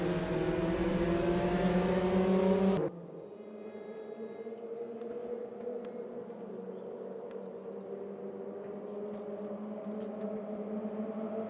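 Several Porsche 944 Cup race cars in the Raceroom racing game pull away from a standing start at Zolder, a loud multi-engine drone that drops abruptly after a few seconds into a steadier, buzzing engine hum.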